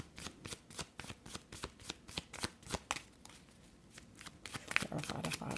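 A deck of tarot cards is shuffled with rapid, rhythmic slaps and riffles at close range, a pause midway, then a louder flurry of card noise, with light talk faintly underneath.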